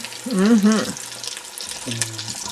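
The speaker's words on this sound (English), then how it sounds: "So you see here we got the lard cooked down, and the goodies are cooking." Sweet pastries for St. Joseph's Day fry in cooked-down lard, a soft bubbling sizzle running beneath a nearby voice speaking in short bursts.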